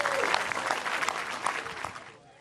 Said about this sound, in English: these diplomats from the United States and Israel cheer and celebrate the opening of the U.S. Embassy in Jerusalem